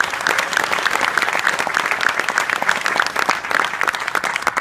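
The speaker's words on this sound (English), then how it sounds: "Let's give him a round of applause" An audience at a New York governor's press conference in Niagara Falls gives a round of applause for the mayor, dense clapping with sharp individual claps standing out, close and sustained.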